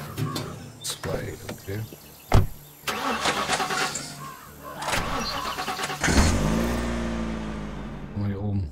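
A car engine starts up in the video game The Last Stand Aftermath, cranking and catching with a loud thump before settling into a steady idle and a rising rev, with a voice talking over parts of it.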